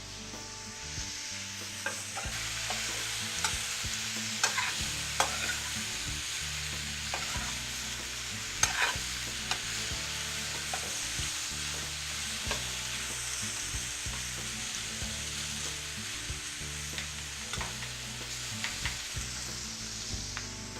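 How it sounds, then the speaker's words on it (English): Zucchini and other vegetables frying in a pan for a Mediterranean veggie sandwich, a steady close sizzle with a spoon stirring and scraping in a repeating rhythm throughout. "I can get my assistant to continue to stir this"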